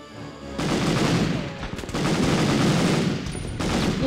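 Rapid gunfire from the 1999 PlayStation shooter Medal of Honor, a dense stream of loud automatic shots and bursts running almost continuously with only short pauses, and no talk over it.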